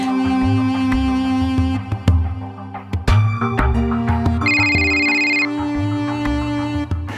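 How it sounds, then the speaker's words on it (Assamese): A phone ringtone plays a steady electronic melody of sustained tones for several seconds, loud and close, with short percussive accents. "রেখা, রেখা কিয় ফোন করলে"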